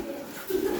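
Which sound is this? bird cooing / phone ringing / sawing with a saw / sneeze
bird cooing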